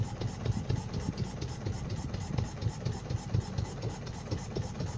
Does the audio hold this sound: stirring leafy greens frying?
no